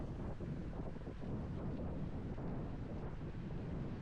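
Wind roars steadily against a microphone while roller skating a long rural route against a headwind, a dense, continuous low buffeting rush with no voices.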